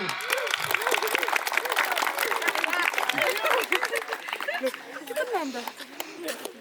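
Applause from an audience at an Indonesian training session, with dense clapping and crowd chatter filling the room and a voice talking over it, the clapping thinning toward the end.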